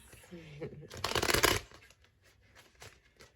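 Tarot cards shuffled by hand in a quiet room, a brief crisp riffle burst followed by soft taps and rustles, with a faint voice at the start.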